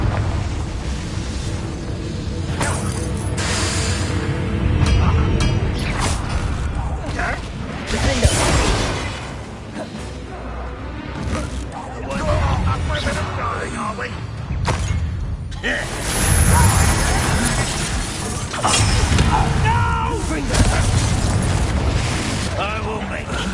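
Blasting Confringo spells go off in a Hogwarts Legacy fight as repeated booming explosions and whooshes, loud and close, mixed with combat effects, music and character voices throughout.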